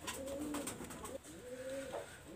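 Royal Teddy high-flyer pigeon babies coo softly and repeatedly nearby, low wavering calls over a steady faint background hiss.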